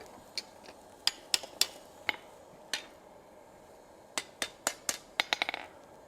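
Hammer striking hot steel on an anvil while a garden hose hook is forged, giving sharp ringing blows, single and in quick bursts, fairly close over a quiet room.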